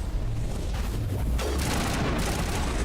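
Sustained gunfire in the Mass Effect video game, dense bursts of rapid shots and booms filling the whole stretch loudly, with no pause.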